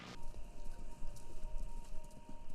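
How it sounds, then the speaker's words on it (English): Horses running heard over a radio in the video game Kentucky Route Zero, a rapid rolling clip-clop of hooves under a steady hum, continuous and moderately faint across the short stretch. "Sounds like horses. Horses running? A race?"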